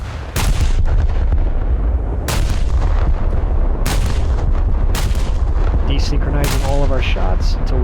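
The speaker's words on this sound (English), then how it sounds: "We're going to try out our ranging shot." Scharnhorst battleship guns fire ranging shots in a naval video game, with about five loud, booming salvos spaced roughly a second or so apart over a constant low rumble.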